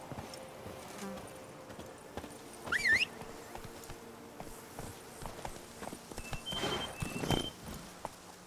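Hooves of the horse Roach clip-clop rhythmically in The Witcher 3: Wild Hunt, Blood and Wine expansion, with a brief whinny and game sounds layered over the steady footfalls.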